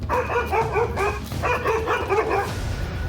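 A Malinois barks in loud, close bursts of quick, repeated barks, with a short break before another volley.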